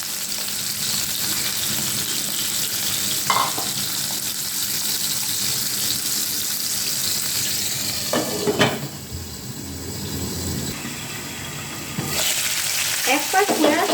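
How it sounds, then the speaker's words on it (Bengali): Boal fish frying in a well-heated pan gives a continuous close sizzle, broken by a few brief clattering bursts of stirring or handling. "প্যানটিকে অবশ্যই খুব ভালোভাবে গরম করে নেবেন, তাহলে কিন্তু মাছ ভাজার সময় লেগে যাবে না।"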